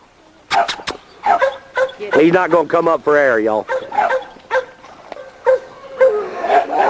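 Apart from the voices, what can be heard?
dog Pistola barking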